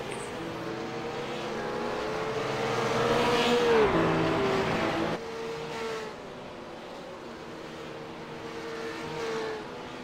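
Race cars at the Spa-Francorchamps 24 hour race roar past near Eau Rouge, engine notes rising and falling steadily across the track at moderate distance, with no talk.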